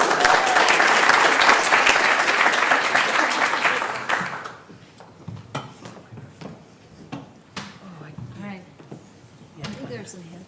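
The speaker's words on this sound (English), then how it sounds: "can we get a huge, huge round of applause for Kat and Kristen?" An audience at a Y Combinator talk applauds loudly for several seconds, then the clapping dies away into scattered handling knocks and thumps.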